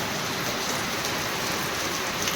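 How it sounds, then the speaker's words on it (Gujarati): A thick, constant roar of heavy rainfall fills the space, steady and close, with no voices or other sounds breaking through. "વધારે વરસાદ ચાલુ જ"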